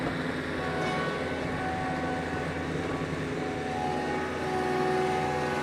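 A 2022 Kubota LX3310 HSD compact tractor engine runs in low range, a steady, close, droning hum with a faint tonal whine that swells slightly toward the end.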